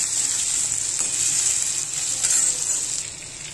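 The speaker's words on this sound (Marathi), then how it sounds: "आणि आता हे सगळं असं भाजून घ्यायचं." Coriander powder and whole spices dry-roast in a pan, producing a steady close, bright hiss and crackle that eases slightly at the end, with faint stirring scrapes and no voices.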